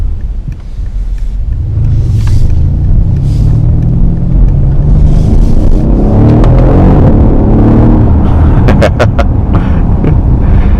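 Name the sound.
2015 Mercedes-Benz S63 throttle blips and exhaust pops on gear changes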